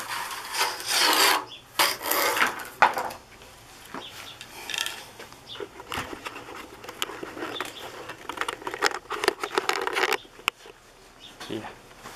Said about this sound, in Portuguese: você serra bem devagar para não estragar a linha